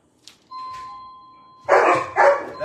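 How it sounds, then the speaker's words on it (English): A doorbell chime rings with a clear sustained tone inside a home, then a dog breaks into several loud barks. "Who's ringing the doorbell?"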